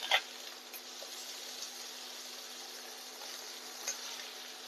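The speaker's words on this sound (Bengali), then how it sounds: "এগুলো ভাজা হচ্ছে, উল্টে দিচ্ছি।" Fish frying in hot oil in a wok as the pieces are flipped, giving a steady, close sizzle with a couple of brief utensil clinks near the start.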